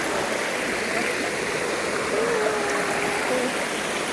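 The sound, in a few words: waterfall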